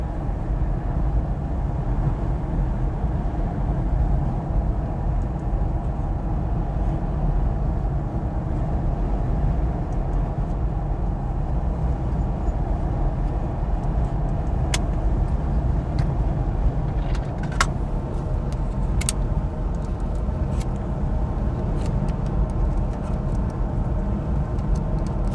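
A BMW i4 eDrive40 rear-wheel-drive electric car on a Sunday drive gives a steady low road and tyre rumble from inside the cabin, with faint clicks near the end and no talking.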